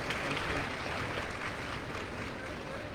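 An audience applauds a student receiving a laptop as a prize at a ceremony, with dense, steady clapping that fills the whole stretch evenly at moderate loudness.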